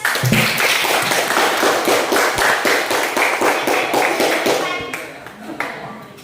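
A classroom group applauds after a presentation during a geography teaching practice session, dense rapid clapping from many hands sustained throughout, thinning out toward the end.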